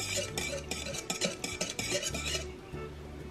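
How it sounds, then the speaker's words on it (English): A whisk rattles briskly against a bowl, stirring a yeast mixture for pita bread dough, with fast rhythmic clinks close to the microphone that fade out near the end. "now I'm gonna whisk it all together"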